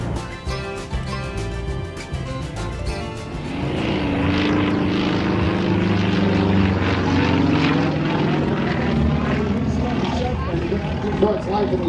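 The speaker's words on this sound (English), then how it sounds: "here is the first Luxembourg, folks, by Gord Price and the Yak 50" A Yak 50 aerobatic propeller plane at an air show in Toronto grows from a distant hum to a loud, steady, rasping engine drone as it passes, under a public-address commentator's voice.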